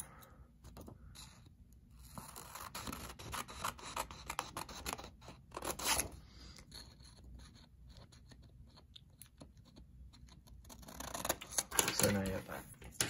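Scissors cutting out a paper piece for a flyable paper F-14 model, close-up crisp snips and rustling paper in a quick irregular run, with faint voice-like sounds underneath.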